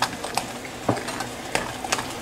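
A spoon scrapes and stirs a thick brownie mixture with brown sugar in a pan, with irregular clinks and scraping strokes, close and moderately loud.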